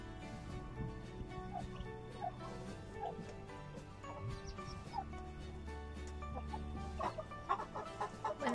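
Turkey poults and a turkey hen feeding and drinking, with a steady mix of high peeping chirps and soft clucks scattered through the scene, fairly close.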